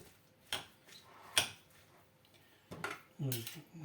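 A few sharp clinks and scrapes of a spoon against a salad bowl while mixing a Chinese cabbage salad, spaced irregularly, close and fairly quiet, with a brief soft rustle near the end.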